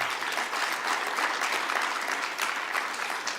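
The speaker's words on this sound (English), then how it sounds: "I think it deserves another round of applause." Steady, dense round of applause from a conference audience at a fintech event, a continuous wash of many hands clapping with no talk over it.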